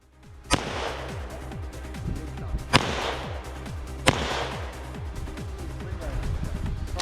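Pistol shots at an IDPA shooting match, three sharp cracks spaced a second or more apart with echoing tails over a low outdoor rumble, fairly close, with voices talking faintly underneath.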